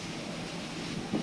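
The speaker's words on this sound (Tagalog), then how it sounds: "Sarap ng hangin." Steady wind rushes across the deck of a moving passenger ship, a continuous broad roar with a slight gust at the end, no voices.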